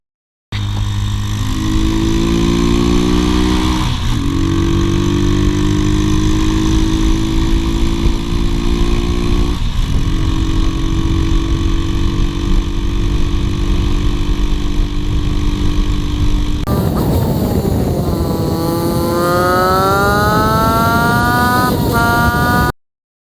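A Sach Madass 125cc pit bike engine runs under load while riding, its buzzy tone rising and falling through gear changes and throttle sweeps, loud and close throughout with a sharp climb near the end.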